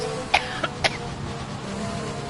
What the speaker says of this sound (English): A dry cough there.